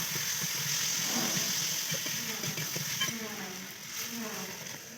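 Shrimp, potato, onion and tomato curry sizzles steadily in a pan while it is stirred, a close and constant frying hiss that fades slightly toward the end.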